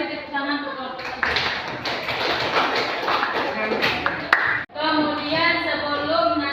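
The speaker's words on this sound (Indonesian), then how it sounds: "Kita beri tepuk tangan untuk kelompok 1." A classroom of students claps for a group of classmates after their discussion presentation, a dense burst of many hands lasting a few seconds between stretches of a teacher's voice.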